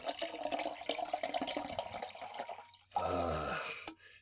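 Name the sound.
drink being poured into a glass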